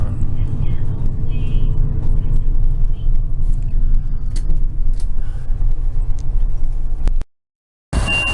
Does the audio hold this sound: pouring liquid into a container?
no